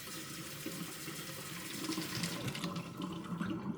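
Water runs steadily from a tap into a sink, a quiet continuous splashing with no voices.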